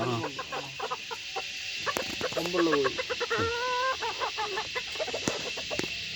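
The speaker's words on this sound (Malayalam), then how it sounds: "ഇതാ 2 കൊമ്പുള്ള ഈ സൗദി അറേബ്യയുടെ ഒരു കോഴി" Several chickens on a farm in Wayanad, including a two-combed Saudi Arabian breed, cluck and squawk nearby in quick, irregular bursts, with some drawn-out calls mixed in.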